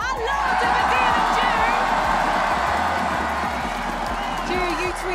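A large crowd at an esports tournament, a Fortnite FNCS finals event, cheers and chants continuously and loudly throughout, with a voice speaking over the roar.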